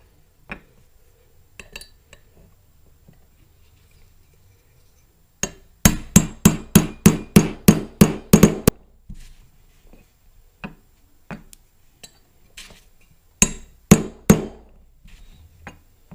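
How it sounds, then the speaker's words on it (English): A brass punch is tapped against the rear sight of a Star BM pistol slide. A quick run of about ten sharp metallic taps sounds close up, and scattered lighter taps follow after a quiet stretch. "we can reinstall the rear sight, aligning our alignment marks using a brass punch"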